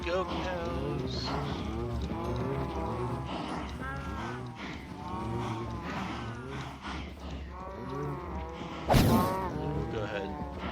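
Cows in the game Minecraft mooing repeatedly, several overlapping low drawn-out moos close by in a steady chorus, with a sharp thwack near the end.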